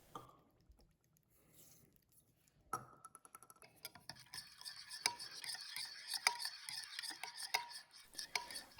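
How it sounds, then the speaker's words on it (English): Melted butter, sugar and salt stirred in a bowl, starting quiet, then quick rhythmic clinks and scrapes of a utensil against the bowl growing louder and busier. "mix that up really nicely"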